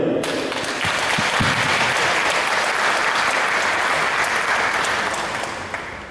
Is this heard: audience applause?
yes